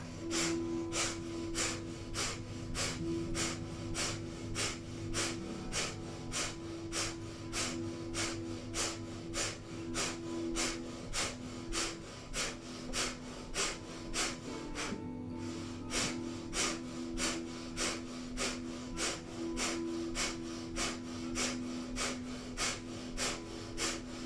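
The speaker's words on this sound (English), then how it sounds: "we'll begin 2 minutes of breath of fire here." Breath of fire in Kundalini yoga: rapid, powerful rhythmic breathing through the nose, a steady train of sharp puffs repeating about twice per second for the whole stretch, close and even, over a faint background hum.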